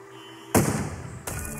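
Two sharp booming blasts from a cannon in the video game Besiege, the first after a short quiet pause and the second about three quarters of a second later, each trailing into a noisy rumble.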